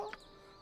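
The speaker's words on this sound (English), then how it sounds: "This chicken just asked us for help." A single short cluck from a chicken in the Baldur's Gate role-playing game, a quick bright burst near the start that fades into quiet game ambience.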